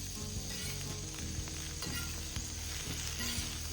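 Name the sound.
food sizzling on a homemade griddle grill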